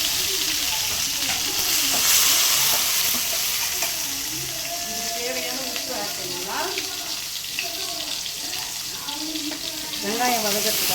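Garlic, onion, green chilli and curry leaves sautéing in a pan, with a steady broadband sizzle and occasional stirring scrapes throughout, continuous and close.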